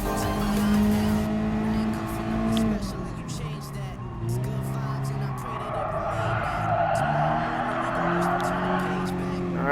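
Race car engines from Gran Turismo Sport, a Mazda Roadster among cars on track, droning steadily with shifting revs and a passing car, heard under continuous talking throughout.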